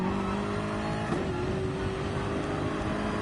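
A BMW M6 GT3 engine in a racing game at Interlagos holds a steady high drone, with a quick gear change dropping and resetting the pitch around the middle of the run, loud and continuous with no talk.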